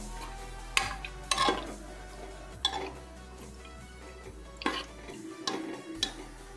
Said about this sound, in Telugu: నీళ్ళు పోసి కలుపుతాం.